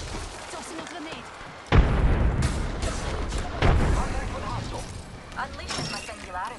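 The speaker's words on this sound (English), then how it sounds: "Throwing a grenade. Tossing a grenade." A grenade bursts in an Apex Legends arena fight with a sudden loud boom, then a second blast a couple of seconds later, both under a voice speaking over the game.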